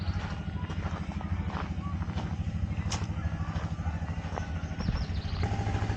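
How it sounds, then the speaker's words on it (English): A small motor pumping water from a well in Wampusirpi, La Mosquitia, chugs steadily with a rapid, thumping rhythm, running continuously at close range. "The engine of the motor is telling us that they are getting water out of the well"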